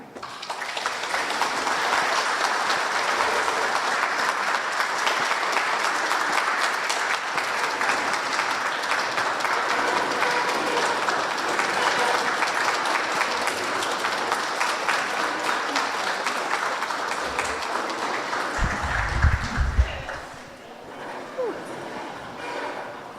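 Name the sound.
audience applause welcoming a speaker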